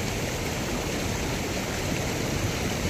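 Floodwater of the swollen Caçatuba river in Passira, Pernambuco rushes in a loud, steady, continuous roar with no breaks.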